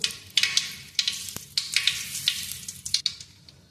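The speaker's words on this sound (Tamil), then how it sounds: "எண்ணெய் காஞ்சிருச்சு, கடுகு போட்டுக்கலாம். கடுகு பொரிஞ்சிருச்சு, பெருங்காயம் சேர்த்துக்கலாம்." Mustard seeds and asafoetida sizzling in hot oil for a lemon dish, a close, continuous crackle with sharp pops and spatters and a few utensil clicks, no talking.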